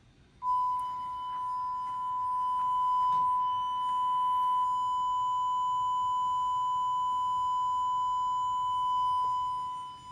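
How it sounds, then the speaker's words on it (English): A steady 1 kHz test tone passing through a Bluetooth audio system with an ESP32-based measurement setup, holding as one continuous pure beep for about ten seconds, with faint background hiss and small clicks. "Here is our measurement at 1 kilohertz test tone."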